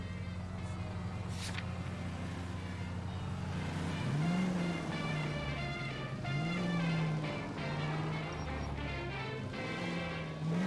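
A car driving in L.A. Noire, its steady engine hum rising into a few revving swells as it accelerates and turns, fairly quiet and continuous throughout.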